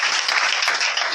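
A church congregation claps and applauds in praise of God, a dense, steady wash of many hands close by with no pauses.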